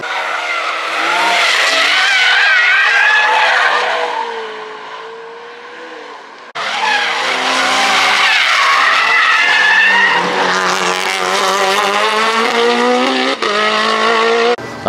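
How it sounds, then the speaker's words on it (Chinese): A Mercedes 190 drifting at Cayuga race track, tires squealing loudly and continuously with engine roar, a brief dip mid-clip before a second long squealing slide close by. "他当时的190漂移过来，刚好被我拍到"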